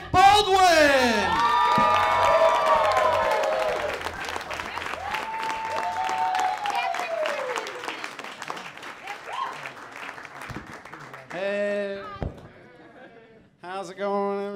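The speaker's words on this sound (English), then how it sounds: "give a big round of applause to Mike Baldwin!" A comedy club audience bursts into loud applause and cheering with whoops as a comedian is introduced, the clapping fading over several seconds while a voice speaks over it near the end.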